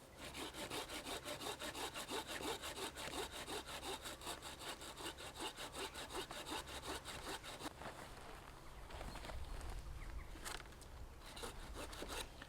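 Bahco Laplander folding saw cutting up through the underside of a wooden log: a fast, rhythmic rasp of push-pull strokes, close and continuous, slowing into heavier, uneven strokes near the end.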